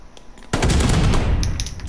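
Rapid automatic gunfire erupts abruptly and stays loud and continuous at a contested hard point in a shooter video game, dense and close.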